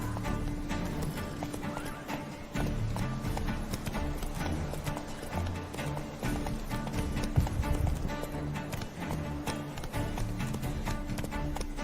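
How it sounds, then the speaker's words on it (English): Horse hooves clip-clop in a steady, fast rhythm through a Witcher 3 game scene, moderately quiet and continuous, with a soft music bed beneath. "Horses."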